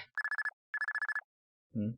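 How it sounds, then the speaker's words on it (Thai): A telephone rings in the horror game Harthorn: two bursts of rapid electronic trills, each a quick run of pulses, followed by a short low tone, clean and close with no voices. "เสียงโทรศัพท์"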